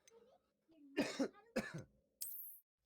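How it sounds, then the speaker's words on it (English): Coughing fit brought on by an antibiotic, heard as a few sharp, throaty cough bursts in quick succession, fairly faint and close, with a muffled voice murmuring softly before it. "you just have a coughing fit out of fucking random, as if there's something stuck in your throat"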